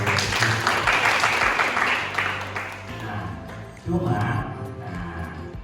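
Audience applause in a hall at a school teacher-training best-practice sharing session, a steady broadband wash of many hands clapping for several seconds, fading slightly midway and then swelling again while a voice talks over it.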